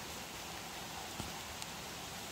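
Rain falls on a garden with sweet potato rows as a soft, even patter and hiss, broken by a couple of faint nearby taps.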